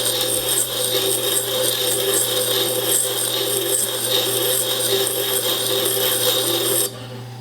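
A hand graver glides back and forth on a GRS Power Hone plate, giving a continuous fine scraping rasp over a constant motor hum that stops abruptly near the end.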